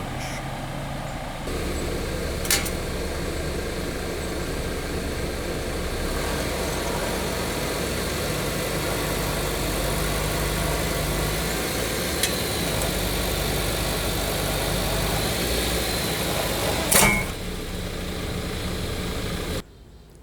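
A 2011 Jeep Compass Latitude idles on ramps before an oil change, its engine a steady low hum throughout, broken by a few brief clicks and knocks and ending abruptly when it shuts off.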